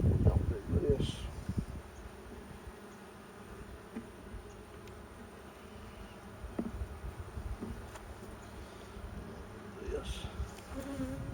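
Bees hum steadily around a strong colony's beehive, a near, continuous buzz with a louder burst at the start and a few brief knocks, while a voice talks faintly beneath.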